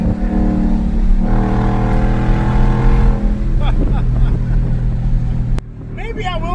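A race truck engine roars loudly and close, its revs climbing and holding in a harsh buzzing tone before cutting off abruptly, with a voice briefly audible afterward.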